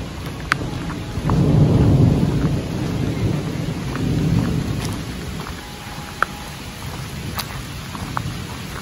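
Heavy rain falls steadily outdoors at Turelbaach castle in Luxembourg on a dark evening, with a deep rumble of thunder building and rolling through the first half, and a few sharp drips or ticks scattered over the wash of rain.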